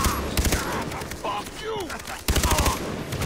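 Bursts of rapid automatic gunfire in a video game ring out in clustered volleys, with pauses between them and a player talking over the action.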